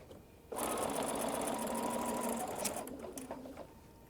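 Stretch fabric feeds through a sewing machine that starts suddenly and runs a steady, rapid whirring stitch for about two and a half seconds before slowing and fading out.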